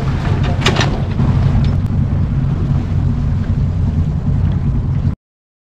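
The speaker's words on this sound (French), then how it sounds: "Et ça c'est les propulsions du moteur, des hélices." Ship's engine and propellers churn water on a sailing trip toward Guernsey from Jersey in fine weather, a steady loud low rumble with wind buffeting the microphone throughout, no voices.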